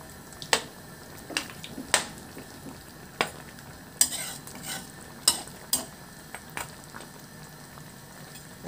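Pata estofado with pineapple juice simmers in a pot while a utensil stirs it slowly, giving sharp scattered clinks against the pot over a soft bubbling background, fairly quiet and close, with no talking.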